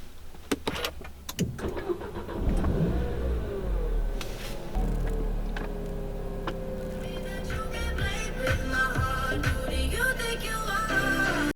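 2014 Nissan Qashqai with keyless start: a few clicks and a whirring starter, then the engine catches and settles into a steady idle hum, heard close up from inside the car.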